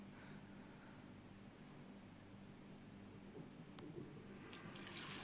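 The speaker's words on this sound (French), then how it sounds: "Ça, c'est la chasse d'eau." A toilet flushes somewhere nearby, a faint, steady rush of running water that continues for several seconds with a few small clicks near the end.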